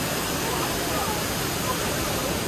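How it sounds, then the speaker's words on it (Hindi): Abbey Falls waterfall in Coorg gives a dense, constant rush of water, a loud, unbroken roar lasting the whole moment. "पानी की आवाज़ भी बहुत तेज़ है"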